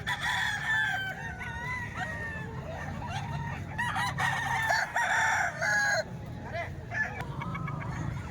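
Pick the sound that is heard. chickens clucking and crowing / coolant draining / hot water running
chickens clucking and crowing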